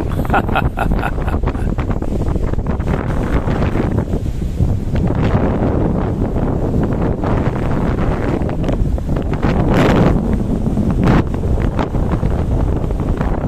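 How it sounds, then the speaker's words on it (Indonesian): Strong, continuous storm wind roars and rumbles against the microphone for the whole stretch at Gandoriah Beach, with crackling gusts and a faint wash of surf underneath. "situasi angin yang tiada putus-putusnya berhembus dengan tekanan yang cukup garang"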